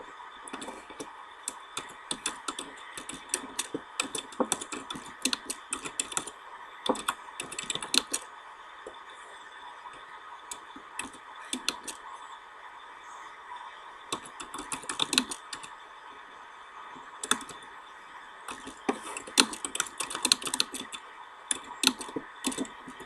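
Keys clack in quick irregular bursts on a computer keyboard as a short forum post is written, with brief pauses between flurries, close and clear over a faint steady hum.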